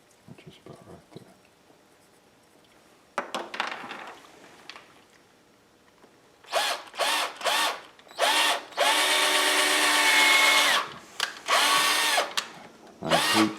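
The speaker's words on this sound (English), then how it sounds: "I hate these chuckless drills." A chuckless power drill bores a hole through a bear claw for a necklace, loud and close in several short bursts and then one longer sustained run, after quieter handling clicks and rustles.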